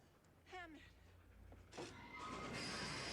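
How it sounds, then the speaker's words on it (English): A train roars past very close in the film Back to the Future Part III, its rumble and wheel noise swelling to a loud, sustained rush. A brief voice sounds near the start. "the train is so close to the camera"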